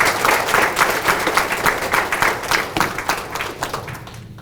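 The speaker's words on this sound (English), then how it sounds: "let's give them a round of applause" A crowd at a memorial service claps steadily for a few seconds, dense and fairly loud, with no voices standing out.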